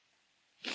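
A single short sneeze bursts out sharply after a brief quiet pause.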